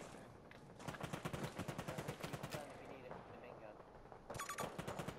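Rapid bursts of gunfire in the shooter game Battlefield 2042, a steady string of sharp close shots through most of the clip, with a voice talking over the fighting.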